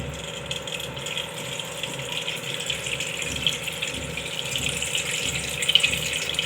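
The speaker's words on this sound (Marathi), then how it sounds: "अलगद हाताने असं वरच्यावर हे पाणी आपल्याला काढून घ्यायचं आहे" Water is poured off soaked pearl millet (bajra) by hand, a steady close trickling and gushing flow that runs continuously with slight surges.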